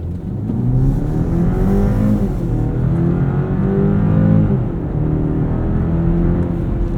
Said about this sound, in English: The 4-cylinder sounds good.